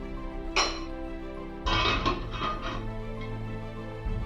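A metal lid set onto a cooking pot in a home kitchen, with a light clink followed a second later by a louder metallic clatter and settling rattle over a steady background hum.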